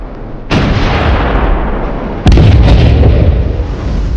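Artillery guns firing in the Kargil war, two loud close booming blasts about two seconds apart, each followed by a long rumbling roar that fills the gap, with no voices.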